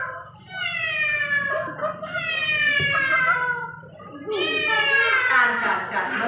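A voice imitates a cat, giving two long, drawn-out meows separated by a short break, loud and close.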